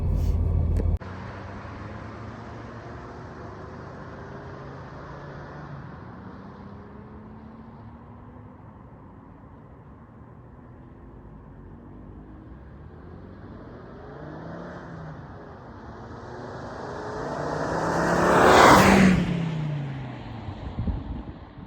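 A Volvo T-5R rolls along the road, its engine note building steadily from a low cruising drone to a loud, close pass near the end before easing away.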